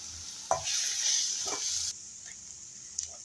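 Raw ground peanut powder stirred in a hot pan over a medium flame gives a steady sizzling hiss, broken by a few distinct scraping strokes, close by with no talking.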